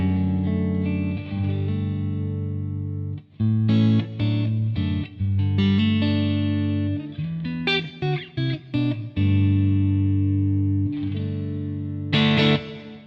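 Electric guitar played through a Divided by 13 CJ11 amp with a tweed, Deluxe-style voice and the Klon-style pedal switched off, ringing chords and short picked phrases with brief gaps, loud and close, no voices.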